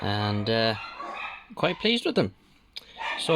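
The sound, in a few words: dogs barking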